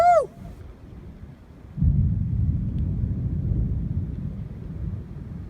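Powerful monsoon thunderstorm over Las Vegas, Nevada, with a deep, loud thunder rumble rolling in and sustaining for several seconds after a brief excited shout.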